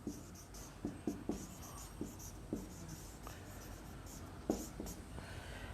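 Pen scratching across paper in short strokes and taps while accounting entries are written out by hand, close and quiet against a faint room hiss.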